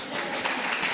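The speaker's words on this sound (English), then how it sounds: "You're supposed to clap now." Audience applause at a fall harvest celebration brunch and silent auction, a steady wash of many hands clapping together throughout the brief moment, fairly loud and close.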